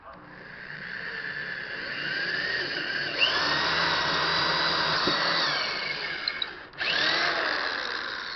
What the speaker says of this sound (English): Using our nice powerful Drill Master drill from our local harbor at Harbor Freight.